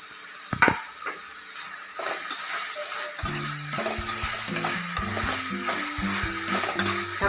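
Chopped tomato and browned onion sautéing in a pan, a steady close sizzle with scraping spoon strokes and light clinks as the mix is stirred.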